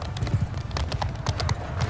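Rapid galloping hoofbeats from horses in a Mount & Blade II Bannerlord battle, loud and close, a dense drumming rhythm throughout the brief stretch with no talking.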